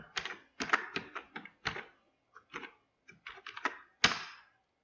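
Computer keyboard being typed on while entering VBA code in Excel, close, crisp key clicks in irregular bursts with short pauses between, alone in a quiet room.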